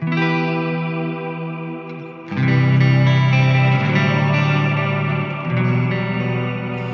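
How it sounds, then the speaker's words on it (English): An electric guitar plays ambient swells through a Strymon reverb pedal in chorale mode, its sustained chords washed in a lush, vowel-like choral shimmer, loud and alone. "use the chorale mode, so you can add vowels to your reverb"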